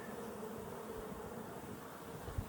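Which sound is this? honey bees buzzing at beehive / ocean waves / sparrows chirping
honey bees buzzing at beehive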